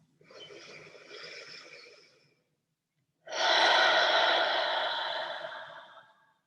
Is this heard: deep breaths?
yes